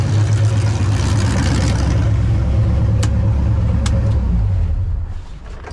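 An LS-swapped Mustang V8 idles with too much fuel pressure, a loud, close, steady lumpy rumble with two faint clicks in the middle, before the engine dies away near the end.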